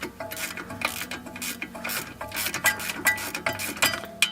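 A wrench turns on the nut and bolt of a Ford Fiesta Mk7 ST front control arm, giving a close run of quick ratcheting clicks and metallic clinks with no talk.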